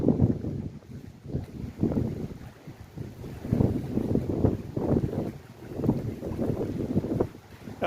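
Gusty wind on the exposed, windy side of a seaside causeway, with choppy water nearby; rough, rolling bursts of wind buffet the microphone in uneven waves throughout, loud and close, with no talking.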